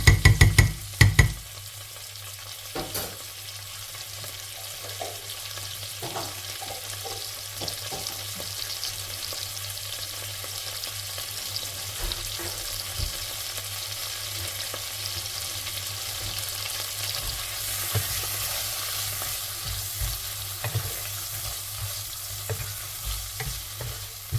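Garlic and ginger paste frying in a pan for a chicken curry, giving a steady close sizzle broken by scraping stir strokes throughout, with no voices.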